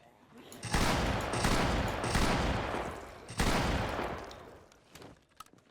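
Shotgun blasts in Project Zomboid fired at a large group of zombies: two loud, booming shots about three seconds apart, each with a long rolling decay, and faint clicks trailing after.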